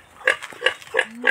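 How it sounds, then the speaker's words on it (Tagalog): A wild boar grunts four times in a steady rhythm, close and loud, each grunt short and nasal, with no talking over it. "Baboy ramo yan?"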